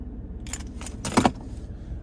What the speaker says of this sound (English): here's the key fob with remote start.